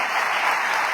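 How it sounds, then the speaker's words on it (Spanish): A church congregation applauds, a dense, steady burst of clapping from many hands that fills the whole short moment. "Denle ese aplauso al Rey bendito."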